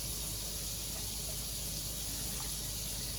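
Water pours steadily into a measuring cup while making refrigerator pickles, a continuous soft splashing stream with no talk.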